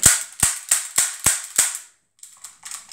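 A semi-automatic airsoft gun fires white BBs in six sharp, loud shots at a steady rhythm about every third of a second, followed by a pause and some faint clicking handling noise.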